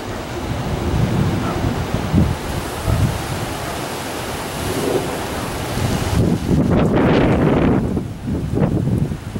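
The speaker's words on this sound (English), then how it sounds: "There's a big wind out today" Strong wind buffets and roars in gusts, rumbling against the microphone with a surf-like wash, loud and turbulent throughout.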